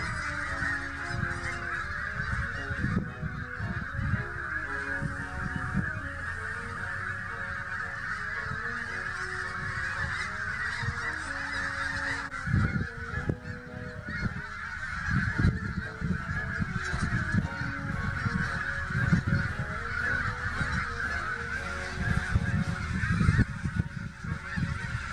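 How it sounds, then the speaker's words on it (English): A large flock of snow geese, mixed with tundra swans, honks continuously in a field, a dense layered chorus of overlapping calls from near and far that holds steady and swells toward the end. "The snow geese are not alone. They are also joined by some tundra swans."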